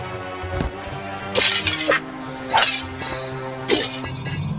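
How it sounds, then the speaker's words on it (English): Objects in a Monsters on Vacation (Hotel Transylvania) Halloween video game shatter and break, several separate glassy crashes with clinking debris spaced about a second apart over a soft, steady game music bed. "You really smashed those objects!"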